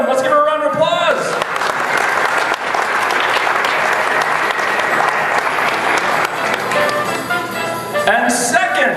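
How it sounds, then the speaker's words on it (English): A crowd at a victory celebration breaks into sustained, loud applause, with an announcer's voice heard briefly at the start and again near the end. "Let's give her a round of applause."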